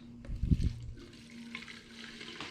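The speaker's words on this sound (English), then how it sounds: "And then we'll pour that straight into the lance." Liquid car-wash snow foam pours and splashes into a foam lance in a short burst, then a quieter trickle continues, close by.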